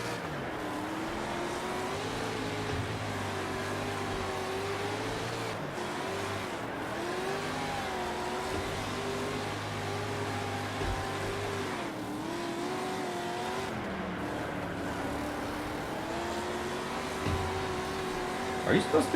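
Race car engine in a World of Outlaws dirt racing career-mode video game at Fast Farm, droning steadily at high revs with shifting pitch throughout, a voice talking over it.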